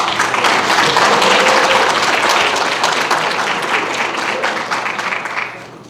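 A pageant audience applauds, the dense clapping of a full crowd filling the hall and holding steady before slowly thinning and fading away toward the end.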